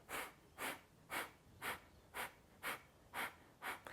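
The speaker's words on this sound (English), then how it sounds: "So it's like a forceful, short, sharp exhale through the nose." Breath of fire in a yoga practice: a steady series of about eight forceful, short, sharp exhales through the nose, evenly spaced roughly every half second, close and isolated against quiet.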